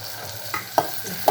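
Okra tipped into a hot pan for a Telugu okra sambar, with a steady low sizzle and a few sharp clatters and stirring knocks close by.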